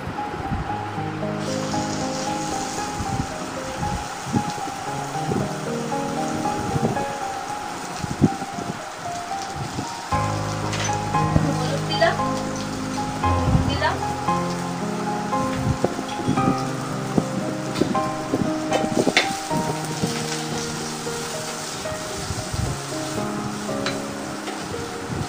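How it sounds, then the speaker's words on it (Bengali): Potatoes frying in a little hot oil in a kadai, a steady crackling sizzle that runs continuously at close range with no talk over it. "আলুটা ভেজে নিচ্ছি"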